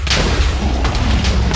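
A gun fires in a Minecraft game, a dense run of heavy, booming shots, loud and close, packed tightly over a second and a half.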